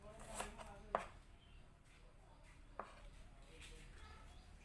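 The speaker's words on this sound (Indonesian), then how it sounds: "Ini aku gunakan 3 siung bawang merah diiris tipis" Shallots are sliced thinly with a knife, and a few faint, distinct chops land irregularly against a board, quiet and close, with soft background noise and no speech.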